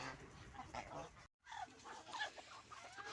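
Farm geese honk at feeding time in a faint, busy flock chorus of overlapping calls, with a brief silent gap midway.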